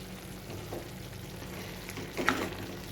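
Bottle gourd curry frying in a pan while a little turmeric is stirred in, giving a low steady sizzle with soft scraping strokes and one brief louder clink near the end, no voices.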